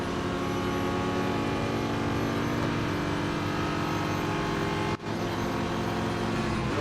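Race car engines drone steadily in the mobile racing game Real Racing 3, a sustained layered whine from a Duqueine D08 race with a brief dip partway through, no speech heard.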